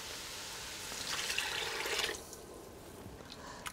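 Stock is poured over blanched peas in a pot, a soft liquid splash building for about a second, then tapering to faint drips and quiet kitchen sounds.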